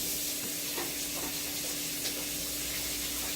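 A pot of jambalaya with andouille sausage bubbles and sizzles on the heat, a steady close hiss with scattered soft pops and bubbling, and no voices over it.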